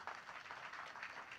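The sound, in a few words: audience applause for the children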